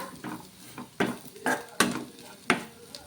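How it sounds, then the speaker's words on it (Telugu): Chicken being stirred in a pan with chili powder, coriander powder and chicken masala: repeated scraping, clattering strokes of a spoon against the metal pan in an irregular rhythm, close and fairly loud, with no talking. "కొంచెం చికెన్ మసాలా కూడా వేసేసుకోవాలి వేసుకొని కలిపేసుకుందాం దీన్ని బాగా"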